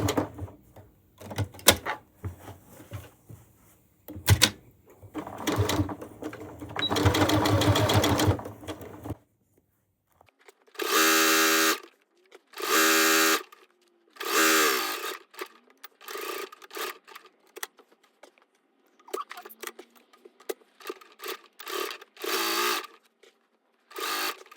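Sewing machine stitching a zippered cushion made from a quilt block or panel, running in short repeated bursts forward and back with brief pauses between, close and fairly loud.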